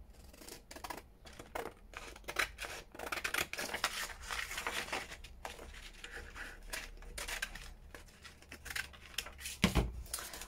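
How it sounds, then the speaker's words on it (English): Scissors snip through packaging scraps and paper ephemera for a junk journal, a near, steady run of rapid crisp cuts and rustling strokes across the whole stretch, with no one talking. "Right, so cut around this."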